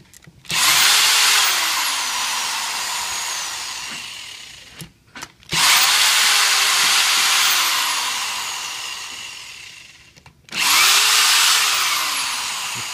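A power tool whirs loud and close in three sustained bursts, each with a rising then falling pitch, while it removes screws from the pump head of a DDP 550 pump-out pump. Brief pauses separate the bursts.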